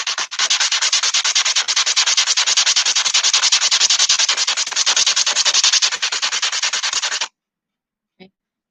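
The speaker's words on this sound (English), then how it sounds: "you're going to rub it on the sandpaper" A wooden popsicle stick is rubbed back and forth on sandpaper in quick, steady, close scratchy strokes for about seven seconds, then stops, followed by one faint tap.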